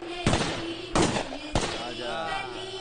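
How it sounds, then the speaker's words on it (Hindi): Three sharp gunshots from Mandor guns, cracking like firecrackers at a wedding procession, each a loud burst spaced about 0.6 seconds apart and followed by a fading ringing tail. "ये मंडोर के बंदूकों की आवाज पटाखे की आवाज लग रही है।"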